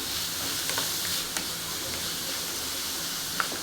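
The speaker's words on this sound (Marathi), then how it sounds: "व्यवस्थित अशी बारीक गॅसवरती भाजून घ्यायचा कांदा" Onion frying on a low gas flame for a Konkani-style methi bhaji: a steady, soft sizzle and hiss with faint scattered ticks and pops, heard alone with no talk.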